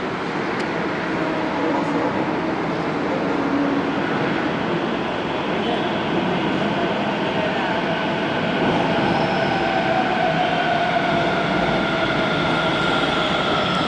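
A metro train arrives at the station with a loud, continuous rumble and whine that holds steady throughout, with no voices above it.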